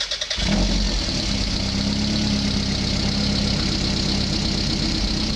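A Toyota MR2 fitted with a turbo muffler fires up and settles into a steady, deep, rumbling idle, close and loud, with no talk over it.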